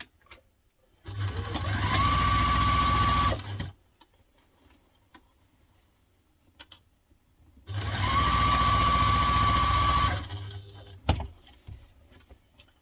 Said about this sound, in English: Now let's sew round.